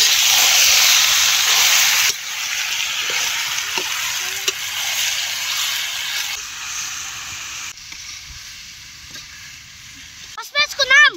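Chicken and vegetables frying for shawarma in an outdoor village kitchen, giving a loud, steady sizzle that fades midway, with brief bits of voices near the end.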